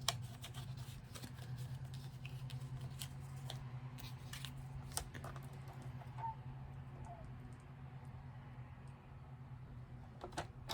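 Scissors trimming a thin strip off a greeting card, faint crisp snips and small clicks scattered through a quiet room with a low hum behind.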